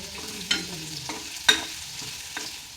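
Smashed garlic sautéing in hot oil for onion chutney, with a soft steady sizzle under a few quick stirring scrapes of a spoon in the pan, close and moderately quiet.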